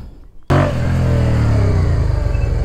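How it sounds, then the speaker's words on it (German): A motorcycle engine kicks in abruptly as the throttle opens, then holds a loud, close, steady rev on a moto gymkhana bike with low tire pressure, without talk. "Ich gebe jetzt schon deutlich mehr Gas."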